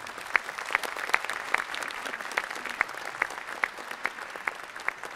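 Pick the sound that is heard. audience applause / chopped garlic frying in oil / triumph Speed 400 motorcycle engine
audience applause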